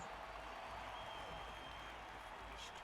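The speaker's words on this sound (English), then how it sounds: "Cheering fans." Crowd cheering and applause in the Blood Bowl video game, a steady, muffled roar of fans that runs throughout at low level, with a faint voice over it.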